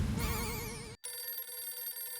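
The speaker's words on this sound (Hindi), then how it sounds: "ये छोटी का ही फोन आया।" A phone rings with a warbling electronic tone, cuts off briefly, then a different repeating ringtone pattern continues, close and clear.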